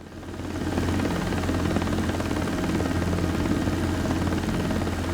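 A simulated Robinson 22 helicopter in X-Plane 12 drones steadily, its rotor and engine producing a loud, continuous buzzing thrum with a low pulsing beat that swells in at the start and then holds.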